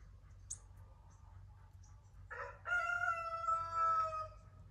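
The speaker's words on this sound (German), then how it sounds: "ich werde hier morgens auch vom Hahn geweckt. Das blende ich euch jetzt mal ein." Rooster crowing at dawn, a single drawn-out cock-a-doodle-doo heard fairly close over a quiet low hum, with a faint bird chirp just before it.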